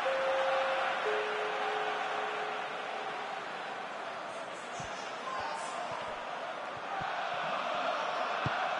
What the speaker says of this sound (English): Crowd calling for him to shoot.